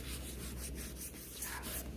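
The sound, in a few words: rubbing charcoal background tone with tissue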